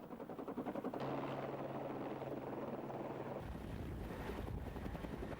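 Helicopter airlifting a film crew and equipment up a mountain, a steady throbbing rotor chop mixed with rushing wind, fairly faint and continuous with a shift in tone partway through.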